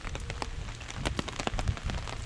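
Steady rain patters and taps on a nearby surface, with dense irregular drops throughout, at a wilderness campsite at North Tea Lake, Algonquin Provincial Park.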